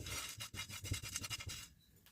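Dal dry roasting in a pan, the lentils scraped and stirred in a rapid series of dry rubbing, rasping strokes, close and fairly quiet, with no voices.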